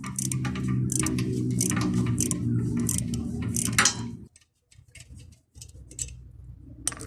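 A socket wrench loosening a brake caliper bolt on a VW, giving a fast run of close, crisp ratchet clicks for about four seconds, then a brief silence and a few softer, scattered clicks.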